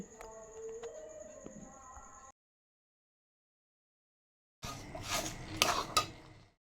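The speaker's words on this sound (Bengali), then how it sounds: "একটু ভালো করে নাড়াচাড়া করতে হবে নাহলে কিন্তু কড়াইয়ের মধ্যে লেগে যাওয়ার ভয় থাকে" Semolina is stirred into milk in a metal wok (kadai), with close clinks and scrapes of a spoon against the pan before and after a stretch of silence.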